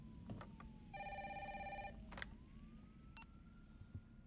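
A telephone rings in a hallway scene of the video game Resident Evil 3 on PC, a single steady electronic trill lasting about a second, faint and alone over a low hum, followed by scattered clicks.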